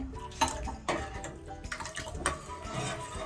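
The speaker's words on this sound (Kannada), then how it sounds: "ಈಗ ಇದಕ್ಕೆ ಒಂದು ಸ್ವಲ್ಪ 1 ಲೋಟದಷ್ಟು ನೀರು ಹಾಕ್ತಾ ಇದ್ದೀನಿ" Water is poured from a glass into a pot of tomato saaru, a thin toor dal and tomato rasam-style broth; it comes as a few short splashy bursts, close and moderately loud, with no talk.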